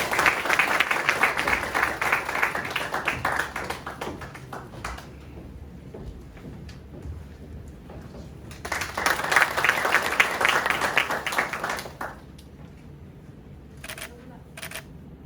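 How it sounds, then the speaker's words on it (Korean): Audience at a legislative forum in Gwangmyeong applauds to welcome the hosting lawmaker, two bursts of steady clapping separated by a quieter stretch of scattered claps and faint murmur, ending with a few sharp camera-like clicks. "박수로 환영하여 주시기 바랍니다."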